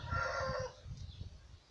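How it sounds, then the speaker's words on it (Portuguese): Chickens on a farm plot near a garden cluck close by, with a short burst of loud fowl calls followed by softer intermittent clucks, no talking. "Então, são muitas galinhas."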